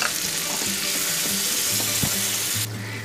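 Spice paste for a bata fish curry fries hard in a pan, a close, dense sizzle running without a break, with faint stirring knocks and no talk.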